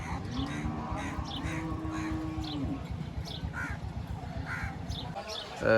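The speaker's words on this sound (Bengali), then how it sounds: "সেখানে কাক এসে বসে আর নাকে ঠোকরাইছে" Crows caw repeatedly near buffaloes tethered in open ground at a Rajshahi livestock market, with a low sustained lowing and steady crowd murmur underneath.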